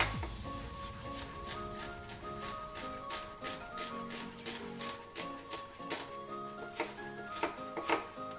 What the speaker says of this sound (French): Donc on va couper notre oignon.